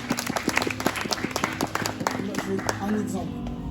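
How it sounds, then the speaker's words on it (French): Congregation clapping during a church service, a loose patter of many hands close by, mixed with voices talking over it. "Acclamez-le."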